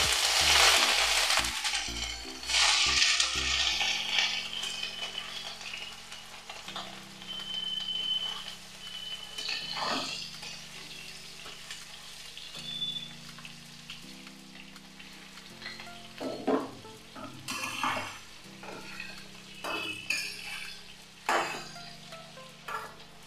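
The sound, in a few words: cauliflower and potato frying in a pan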